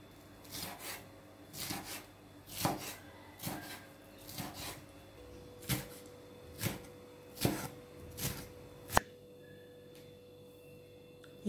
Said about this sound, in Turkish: Yeşil biberleri doğradım.